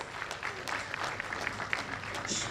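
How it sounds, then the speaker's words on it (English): A crowd at a women's convention applauds steadily throughout, with dense clapping at moderate distance and no clear voices. "Please give them a huge round of applause."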